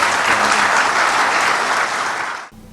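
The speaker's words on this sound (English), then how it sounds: "So a round of applause for our legislators." Applause for state legislators at a public announcement event, a dense, steady burst of clapping from a crowd that holds loud for over two seconds, then cuts off abruptly.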